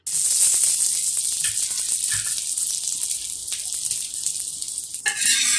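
Banana pancake frying in butter in a pan, a steady close bright sizzle running throughout with faint scraping touches.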